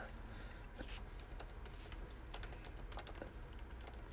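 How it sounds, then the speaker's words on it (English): Quiet, steady clicking of a computer keyboard as someone types into a chat during a sports trading card box break, with irregular keystrokes over a low room hum and no talking. "I need to start typing it into the chat before I start."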